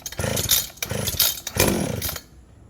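A small engine on a $50 pawn-shop machine with a freshly rebuilt carburetor roars in three loud, close bursts of raspy revving with brief gaps, then falls quiet.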